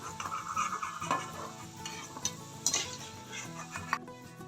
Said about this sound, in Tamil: திராட்சையை வறுத்து எடுத்துக்கலாம் தனித்தனியாக வறுத்தோம்னா தான் அது கருகாமல் வரும்